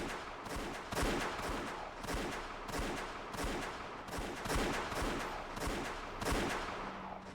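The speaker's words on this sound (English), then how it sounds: "As soon as I heard the sound of repeated gunfire, I knew." Repeated gunfire in a visual novel scene, a rapid series of loud sharp shots in bursts roughly every half second to a second, continuing throughout.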